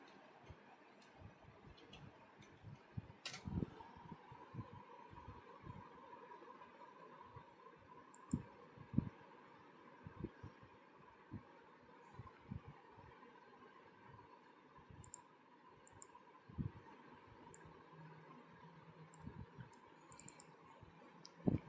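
Faint, sparse computer mouse clicks in a quiet room during a Linux software installation, scattered single clicks over a low steady hum.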